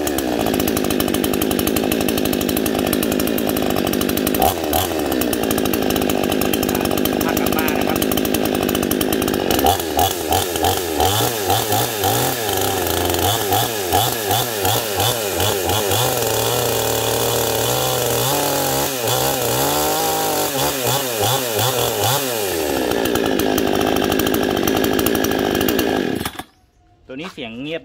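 A Kratingdam CS152 chainsaw with a green cover and a 22-inch STIHL bar is pull-started and runs loud and close, its engine rising and falling through revs for over twenty seconds before cutting off abruptly near the end.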